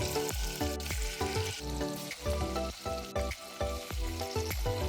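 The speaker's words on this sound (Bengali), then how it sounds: "বাটারটা গলে গেছে, পনিরগুলো ভাজার জন্য দিয়ে দিচ্ছি।" Paneer cubes frying in melted butter and refined oil in a frying pan over a low flame, a close, continuous sizzle with bubbling crackle throughout, no talking.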